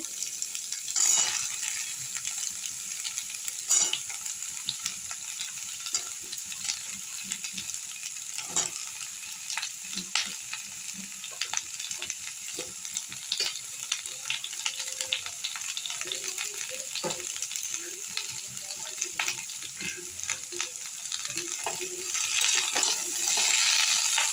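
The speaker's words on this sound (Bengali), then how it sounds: "সবজিগুলো অল্প করে ভেজে নিলেই হবে। এবার আমি ফুলকপিগুলোর মধ্যে দিয়ে দেবো।" Mixed vegetables with cauliflower fry in a pan with a steady, close sizzle, broken by frequent clinks and scrapes of stirring; no one speaks.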